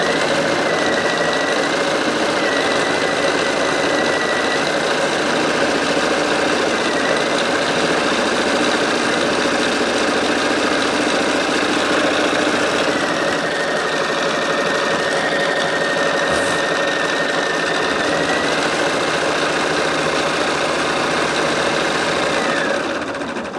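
An embroidery machine stitches a set line on a gingerbread design, a steady, close mechanical hum with rapid needle chatter and a faint whine running unbroken for the whole stretch.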